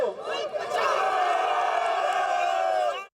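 Protesters holding party flags and banners chant slogans against the Punjab governor and interior minister outside Governor House in Lahore, a loud massed chorus of voices that holds steady and then cuts off abruptly.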